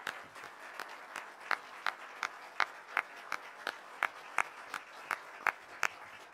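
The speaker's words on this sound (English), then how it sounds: "please join me one more time in a round of applause." A sparse round of applause at a congressional town hall, with a few distinct, evenly spaced claps standing out over softer scattered clapping, fairly quiet and rhythmic.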